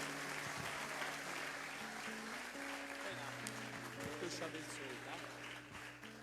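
A church congregation claps during a worship service, a faint, sustained patter beneath sustained musical tones and a speaking voice.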